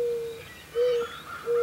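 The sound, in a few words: owl hooting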